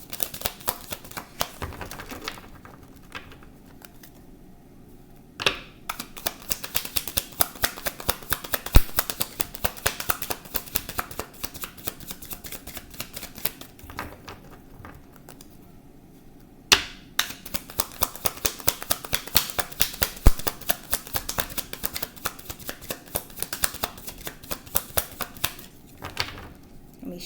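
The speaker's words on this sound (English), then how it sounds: "shuffle." Tarot cards are shuffled by hand in two long bursts of rapid, crisp riffling and flicking. The sound is close and quiet, with a short lull in between.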